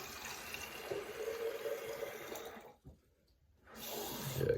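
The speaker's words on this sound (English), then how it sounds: "I'm about to actually fill mine up with water right now" Tap water runs steadily into a spray bottle at a bathroom sink, a soft close hiss that cuts off briefly near the end before flowing again.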